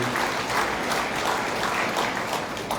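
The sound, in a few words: audience applause at public servants' assembly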